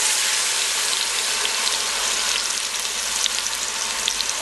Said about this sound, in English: All right, time to sear. Throw it in.